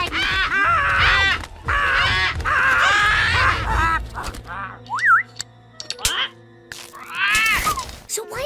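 A cartoon parrot in The Simpsons gives shrill, warbling squawks in bursts, mixed with character dialogue and followed by a few shorter squawks.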